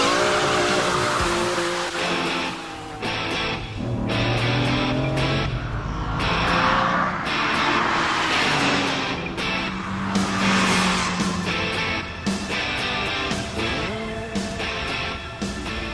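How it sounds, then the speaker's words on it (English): Lamborghini Diablo accelerating hard on the Castle Combe racetrack in Wiltshire, a loud, close V12 roar climbing through gears with sharp shift breaks and a brief tire squeal, sustained throughout. "demonstrate just how fast the Diablo accelerates"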